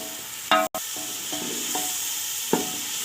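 Potatoes frying in a pan, a steady close sizzle punctuated by a few sharp scraping stirs and clanks of the spatula, one brief dropout, no one talking.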